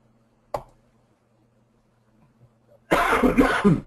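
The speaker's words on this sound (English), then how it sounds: "You're going to have to edit out a lot of these coughs" A sharp single click is followed by quiet, then a loud, harsh cough erupts close by, rough and raspy for about a second.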